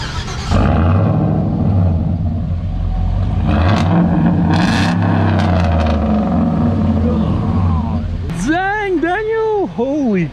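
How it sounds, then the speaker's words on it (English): A truck engine revs hard and loud, with a low continuous rumble that holds steady for about eight seconds. After that, voices react excitedly over the idling engine. "I want to hear it revved up, man."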